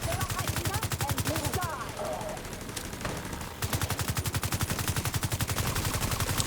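A video game turret fires rapid, steady automatic bursts, loud and continuous, with a short lull near the middle before the gunfire resumes at the same fast rhythm.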